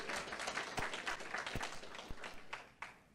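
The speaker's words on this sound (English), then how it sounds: "Round of applause for that kind of employment" An audience applauds at a disability access awards event, steady clapping with a few sharper individual claps standing out over the crowd, fairly quiet and distant.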